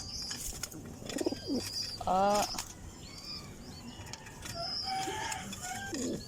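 Pet pigeons kept by a new breeder make soft cooing and throaty calls, with a louder burst of vocalizing near the middle, close by amid outdoor background noise.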